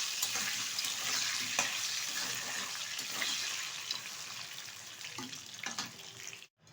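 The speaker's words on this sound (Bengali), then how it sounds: "প্রথমেই আমি দিয়ে দেবো আলুগুলো ভালোভাবে ভেজে তুলে নেব একটা পাত্রে।" Potatoes fry in white oil in a wok with a continuous, soft, close sizzle and occasional stirring scrapes, ending in a brief abrupt dropout.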